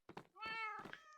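A cat meows twice in the Minecraft video game, each call a drawn-out, clear, tonal mew, the second rising and trailing off, after a couple of short soft thumps.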